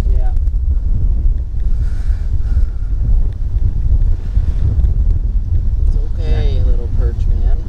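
Strong wind buffeting the microphone on a fishing wharf, a loud continuous low rumble throughout, with people talking over it.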